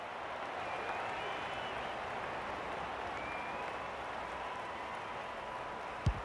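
A distant stadium crowd roars at an Australian football match between Adelaide and Essendon, a steady wash of cheering that holds at an even level throughout with a brief sharp thump near the end.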